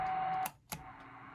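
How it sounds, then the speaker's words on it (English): A Cobra 138XLR CB radio with a fault where reception cuts in and out when keyed: steady static-laden receive noise drops out abruptly for a moment, with a sharp click, then returns, alone and fairly quiet. "the receive cutting in and out when I key the radio"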